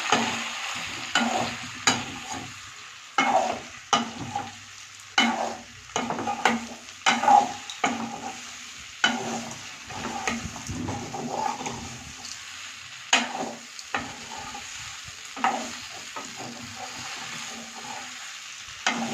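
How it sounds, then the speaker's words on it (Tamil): Leftover idli being stirred and tossed with homemade curry leaf powder in a pan, a steady run of scraping, clacking strokes with a soft sizzle underneath, close and fairly loud, no talking. "இதை போட்டு நல்லா ஒரு பெரட்டிக்கலாம்"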